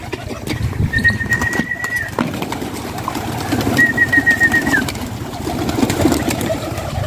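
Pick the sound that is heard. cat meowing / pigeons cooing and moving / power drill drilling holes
pigeons cooing and moving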